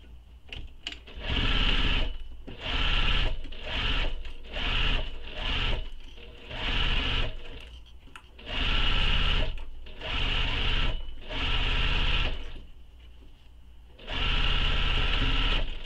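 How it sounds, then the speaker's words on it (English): A sewing machine stitches a seam on a tote bag, running in a series of steady bursts of a few seconds each with short pauses between, close and fairly loud. "then we're going to sew this with the seam allowance given in the pattern"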